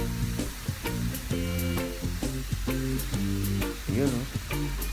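Water spinach (kangkong) for adobong kangkong sizzles and is stirred in a frying pan, a steady close frying hiss under background music with strong rhythmic tones.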